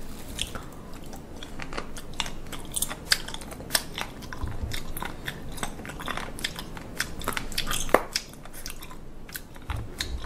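Close, wet chewing and biting on live fish, a steady run of crunchy, squishy mouth sounds with sharp snaps scattered throughout and no talking.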